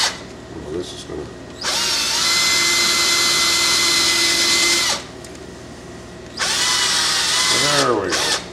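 A power drill bores through a carved wooden coffee pot in two loud, sustained bursts of whining motor noise, separated by quieter pauses with faint handling sounds.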